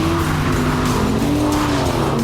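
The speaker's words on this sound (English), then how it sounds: "I can feel the back of the car breaking away and correcting." A restored Aston Martin drifts on a race track, its engine roaring loud and steady while the tires squeal with a rising and falling pitch as the rear slides.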